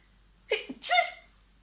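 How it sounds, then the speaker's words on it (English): A single sharp sneeze, a quick inhaled build-up followed by a loud explosive burst, close to the microphone. "I'm gonna sneeze."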